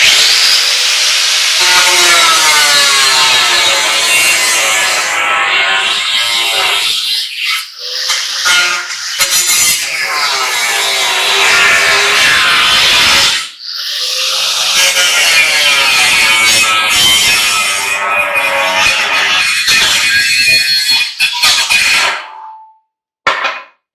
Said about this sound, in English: Because we're going to cut this with a cutoff wheel.